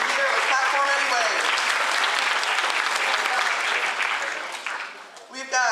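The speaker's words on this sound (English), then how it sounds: "Let's clap for him anyway." Audience applause at a middle school honor society ceremony, a dense, loud wash of clapping from a crowd that fades toward the end as a voice returns.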